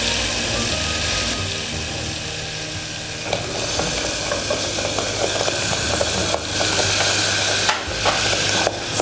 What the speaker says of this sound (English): Stirring it nicely.